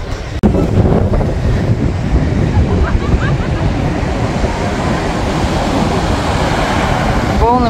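Sea waves wash onto the shore at Sochi in a continuous loud roar with wind buffeting the microphone, a sharp knock at the start and a faint bird-like chirp near the end.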